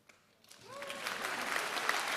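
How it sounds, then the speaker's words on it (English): A graduation ceremony audience breaks into applause, starting faintly under a brief voice and swelling to a steady wash of clapping within two seconds. "We welcome applause."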